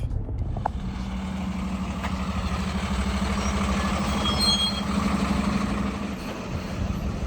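Heavy truck arriving and idling while carrying a Ford F250 pickup with a 7.3L Powerstroke diesel, a loud, steady low engine rumble with a droning hum that holds for several seconds.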